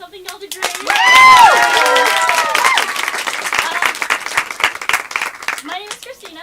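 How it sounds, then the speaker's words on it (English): Audience applause and clapping fill a small room at an improv class show, a steady dense patter under a voice speaking over it. "Another round of applause."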